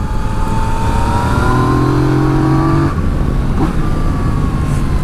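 A 2018 Yamaha Tracer 900 motorcycle engine revs loudly during a test ride, a close, sustained mid-pitched roar with rising and shifting tones and brief dips, no voices.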